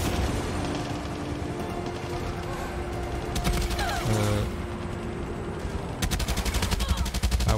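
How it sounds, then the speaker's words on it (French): Enemy gunfire in the video game Far Cry 6, rapid bursts of automatic shots rattling over a loud continuous game soundscape, intensifying toward the end, with no talking. "Oh putain, mais il me tire dessus."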